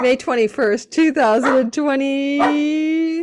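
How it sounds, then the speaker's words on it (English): A dog yips and whines in short bursts, ending in a drawn-out whimpering howl, mixed with a person talking nearby. "Sorry about the barking dog."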